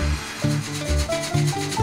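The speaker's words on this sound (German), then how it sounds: "Seit 120 Jahren schneidet dieses Sägewerk schon Baumstämme in dünne Bretter." A 120-year-old sawmill cuts logs into thin boards with a steady, rhythmic rasping, each stroke of the saw repeating about twice a second, close and continuous.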